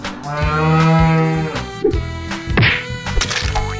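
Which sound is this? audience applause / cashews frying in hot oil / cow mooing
cow mooing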